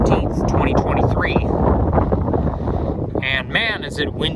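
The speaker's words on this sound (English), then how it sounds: "And man, is it windy out." Strong wind sweeps across an open hill in a park on a cold autumn day, roaring steadily and buffeting the microphone throughout, with a faint voice briefly audible underneath.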